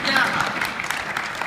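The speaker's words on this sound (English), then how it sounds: "Clap for yourselves." A convention hall audience claps through the whole moment at a 2015 Union of BC Municipalities address, a dense, steady patter of many hands with a voice faintly mixed in.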